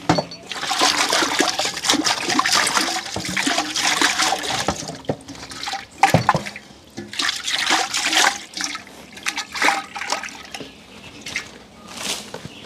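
Water runs and splashes loudly in a pot, with sloshing and clattering as it is swirled and rinsed, the flow surging and easing.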